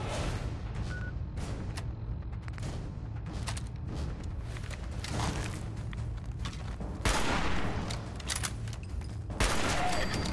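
Explosive hunting rifle shots and blasts in Fallout 4, repeated loud booming reports spaced a second or so apart over steady, busy combat noise.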